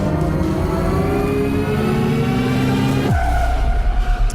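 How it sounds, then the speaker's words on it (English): A Tesla Model Y pulling away, giving a steady whirring drone with a rising electric whine and layered tones that drop abruptly partway through, continuous and fairly close throughout. "That's the sound of a Tesla Model Y taking off."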